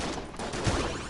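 Video game gunfire in Enter the Gungeon: a dense, continuous spray of shots and impacts, with a heavier thump partway through.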